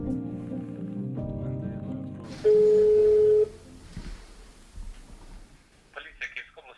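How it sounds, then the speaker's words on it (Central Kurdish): A phone call to the police in war-time Ukraine, with a steady electronic ringing tone held for about a second amid murmured talk and low background noise. "تەلەفۆن بۆ پۆلیس دەکەین"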